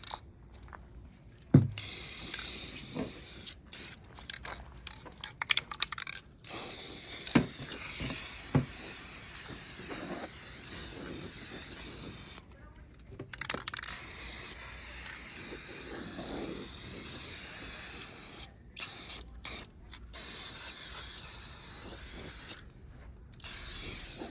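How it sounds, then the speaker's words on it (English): An aerosol spray paint can, about half full, hisses in bursts of varying length while painting a Ford 3-speed transmission, with short pauses, clicks and faint rattles between sprays, close to the listener. "we got maybe a half a can of spray paint left"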